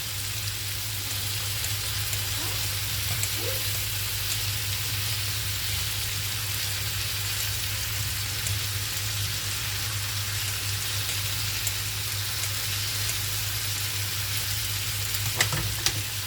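Onions and meat cooking gently in a pan give a steady, even sizzle that runs unbroken throughout, with a faint low hum underneath and no one speaking.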